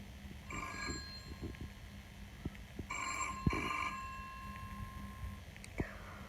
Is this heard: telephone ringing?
yes